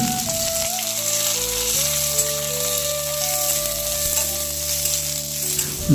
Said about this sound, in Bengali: তারপরে কেটে রাখা পেঁয়াজ কুচি এবং কিছু রসুন দিয়ে ভালো করে ভাজবেন সঙ্গে লঙ্কাও দিয়ে দেবেন